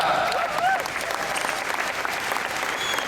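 Audience applause at a Disney stunt show, a steady wash of clapping from a crowd that carries on without a break.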